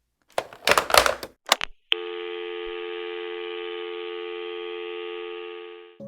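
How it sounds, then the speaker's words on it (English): A telephone line gives a brief burst of noisy clicks and tones, then a steady, loud, continuous tone holds for about four seconds before fading out. "a phone call rang at the Texas State Police Department, its shrill tones echoing through the quiet halls"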